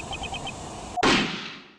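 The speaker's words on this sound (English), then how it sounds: "That was a gunshot." A gunshot on a tape recording in Ace Attorney Investigations 2: a few faint metallic ticks, then one sharp loud bang that rings and slowly fades over a low background hiss.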